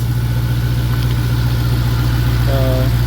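A Hellcat-swapped Jeep engine idles steadily nearby, a loud, even low-pitched rumble with no change in speed, with a leaking exhaust gasket loudest on the passenger side.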